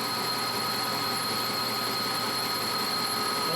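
A metal lathe facing a part machined for a 1973 car cup holder extension, a steady loud whirring whine with a constant high tone, continuous and close with no talking.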